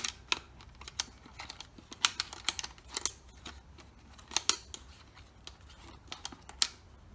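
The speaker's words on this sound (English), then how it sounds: "all we're going to do is we're going to screw our trail camera in" A trail camera screwed onto the threaded mount of a Moultrie 325 Elite II deer feeder, with sharp little plastic clicks and ticks, irregular and close, and a few short bursts of quicker clicking.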